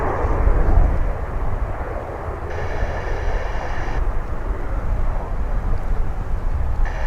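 Airplane passing directly overhead at DFW Airport, a steady loud broadband engine roar that holds through the whole stretch with no talk.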